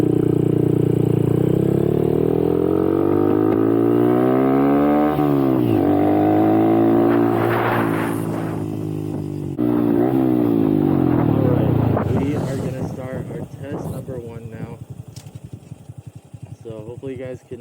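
Small four-stroke engine of a modified Honda Monkey motorcycle revving hard through the gears on a top speed run, loud and close, with rising and falling pitch at each shift and wind buffeting.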